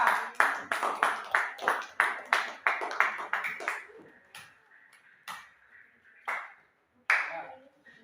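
A classroom of students claps for a pupil, Mia, in a loose rhythmic group clap of about a dozen beats over four seconds. Scattered single claps and taps follow, then a few late louder claps, with faint voices in between.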